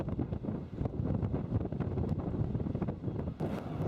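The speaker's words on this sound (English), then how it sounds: "I'm getting severely buffeted by the wind here on this end of the harbour" Strong wind buffets a microphone on the end of the mole at a Cornish harbour, producing loud, uneven low rumbling gusts with sharp thumps that rise and fall throughout, and no one talking.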